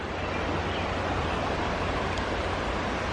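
A river flows in Zion National Park as a steady, dense rush of water heard close by at the river's edge, continuous and even with no voices.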